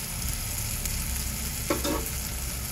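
Spices sizzle in hot oil as turmeric, red chilli and cumin powder are sautéed for a tender cashew curry. The frying hiss is close and steady, with a couple of quick stirring scrapes and no talking.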